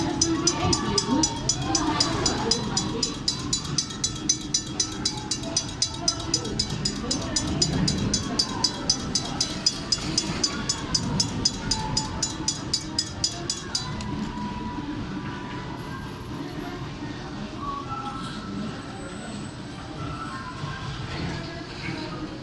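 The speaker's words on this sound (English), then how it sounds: "That was Serengeti Express train, 601 green train, carrying green cars." A green Serengeti Express theme park train, number 601 pulling green cars, rolls past with a steady, regular clicking of wheels over rail joints for most of the run, then fades into ambient noise with faint voices in the background.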